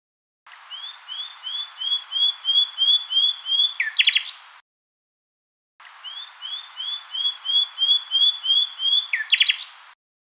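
Synthesized bird song built from sine oscillators plays twice: each phrase is a rising run of quick, evenly spaced whistled chirps that speeds up and ends in a brighter burst, with a short silence between the two phrases.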